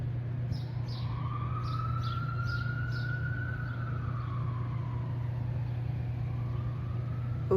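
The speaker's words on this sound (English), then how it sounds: "The sirens, case in point." Emergency vehicle siren outside, wailing in a slow rising and falling sweep at moderate distance over a steady low hum, with birds chirping faintly in the background and no one speaking.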